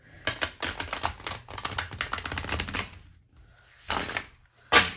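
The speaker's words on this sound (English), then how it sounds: "So bear with me here while I shuffle these cards." Tarot cards being shuffled by hand in quick riffling bursts, close and fairly quiet, with a pause and then two more short shuffles near the end.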